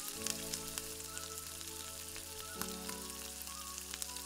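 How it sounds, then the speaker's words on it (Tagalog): Onion sautéing in hot cooking oil for Filipino batchoy: a continuous gentle sizzle with scattered light pops, steady and fairly faint, with no speech. "Sunod po nating isote ang ating sibuyas."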